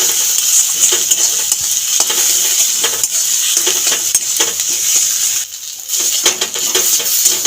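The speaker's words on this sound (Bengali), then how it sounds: "স্বাদের জন্য আর একটু নুন দিয়ে দেব নেড়ে চেড়ে শুধুখানি একটু নাড়িয়ে ফেড়িয়ে ভেজে নেব" Kohlrabi leaf paste sizzles and fries in a pan while being stirred, a steady loud crackle with scraping strokes and a brief drop in the hiss near the end; no talking.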